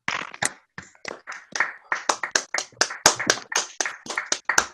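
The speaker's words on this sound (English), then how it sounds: "put your hands together to give Murray a fantastic round of applause" An online lecture audience claps, unmuted, for the speaker: scattered, uneven hand claps that build into a quicker, denser run of sharp smacks, close and fairly loud.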